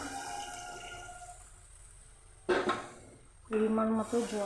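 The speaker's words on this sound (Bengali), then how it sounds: "এবার দিয়ে দিচ্ছি পরিমাণ মতো জল" Water is poured into a pan holding raw green mango stirred with spices, splashing in two short bursts, the second starting after a brief pause; nearby and moderately loud, with no voices.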